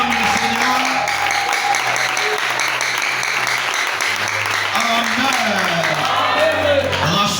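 A church congregation applauds and cheers in praise of the Lord, sustained dense clapping filling the room with scattered whoops and shouts, while a voice speaks over the crowd.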